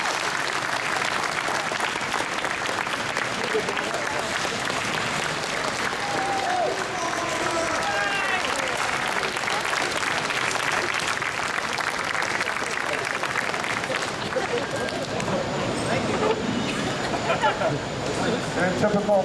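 A large audience at a high school culinary arts competition closing ceremony applauds steadily and loudly for nearly twenty seconds, a dense continuous wash of clapping with crowd murmur mixed in.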